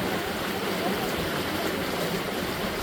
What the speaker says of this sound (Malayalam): കാടുകൾക്കുള്ളിൽ കൂടി ഒഴുകുന്ന തോട്